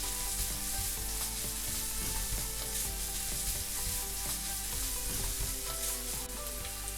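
Meat for spaghetti bolognese fries in a pan as salt is added, a steady dense sizzle running the whole way at close range, with scattered small scraping and stirring sounds and no talking.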